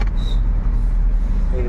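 A lorry rushes past at high speed on a road, a loud steady low rumble of engine and tyre noise close by, with brief speech over it.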